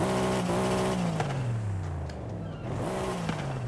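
Brabus 800 V8 in Forza Horizon 5 firing up, a loud, steady engine drone that sags, then rises again in pitch, with no talking.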